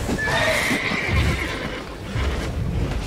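The horse Roach in The Witcher 3: Blood and Wine lets out a clear, loud neigh over a steady clip-clop of hooves, with the hoofbeats carrying on alone after the whinny fades.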